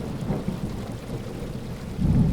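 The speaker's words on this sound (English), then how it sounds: "a terrifying storm began to thunder and rain down upon the city" A storm over a city brings low rolling thunder and steady heavy rain, with a deeper rumble swelling near the end, and no voices over it.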